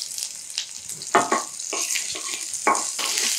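Garlic and red chillies frying in tempering oil for a Chettinad okra kulambu, a crackling sizzle punctuated by several sharp scraping stirs and utensil knocks up close.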